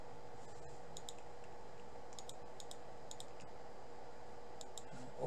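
Computer mouse clicks while files are uploaded: a few sharp, faint single and double clicks spaced over several seconds above a steady low hum, with no talking.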